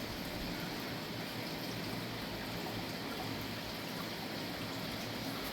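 Creek water bubbling and trickling steadily over its edge beside a pond garden, a continuous close, broadband wash of flowing water with no voices.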